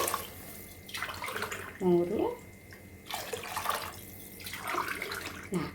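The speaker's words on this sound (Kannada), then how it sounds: "ನೀವು ಅದಕ್ಕೆ ನೀರನ್ನು ಕರೆಕ್ಟ್ ಅಳತೆಯಲ್ಲಿ ಹಾಕ್ಕೋಬೇಕು" Water pours from a vessel into a pot of rice for cooking, with a few bursts of splashing and trickling set apart by pauses, close by and moderately loud, while a person talks in the background.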